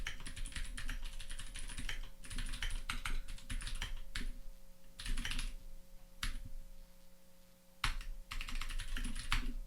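Typing on a computer keyboard while entering a Git alias: close, moderately quiet bursts of rapid key clicks separated by short pauses, with a faint steady hum beneath.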